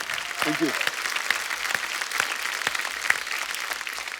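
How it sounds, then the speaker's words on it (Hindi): Steady, dense applause from a TV comedy show studio audience for a team. A brief voice is heard near the start. "एक बार जोरदार तालियां अवरोध की पूरी टीम के लिए।"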